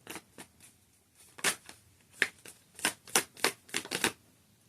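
Tarot cards being shuffled in a string of close, crisp riffling bursts, starting sparse and growing denser, the papery flutters falling in quick uneven clusters.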